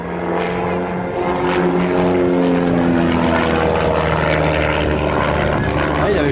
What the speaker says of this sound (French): un cœur dans lequel passent deux avions en ligne